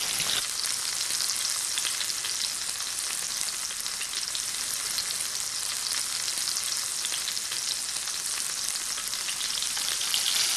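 Tuna coated in peppercorns sears in a hot pan, giving a dense, even, close-up sizzle that holds steady at high volume for the whole stretch with no voices.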